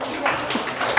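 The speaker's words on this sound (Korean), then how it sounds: "박수 쳐주세요" A short, brisk burst of audience applause at a Korean leadership lecture on King Sejong, a hissing spread of many claps held at a steady level with one sharper clap near the end.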